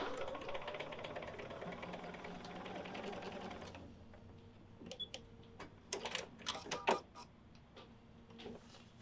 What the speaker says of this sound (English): continue stitching using that 1/4 inch seam allowance